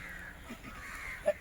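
A single short crow caw rings out near the end over steady outdoor background noise at a garbage dump piled with chicken entrails.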